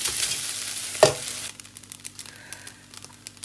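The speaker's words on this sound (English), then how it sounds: "I'll go ahead to add my rice." Cooked rice tipped into a hot pan for chicken fried rice, one soft thump as it lands, then a frying sizzle broken by scattered scraping stir strokes, close and alone.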